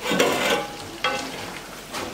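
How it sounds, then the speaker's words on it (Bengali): Meat being sautéed and stirred in a pot in a Bangladeshi village kitchen, a brief burst of sizzling with a couple of scraping spoon strokes, close and fairly loud, no voices. "মাংসগুলো একটু কষানো হোক, তারপরে আলুগুলো দিয়ে দেব।"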